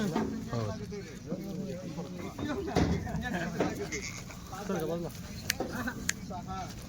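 Goats bleat repeatedly in a busy outdoor setting as they are loaded into an Eicher truck for a buyer, their wavering cries overlapping with people talking nearby.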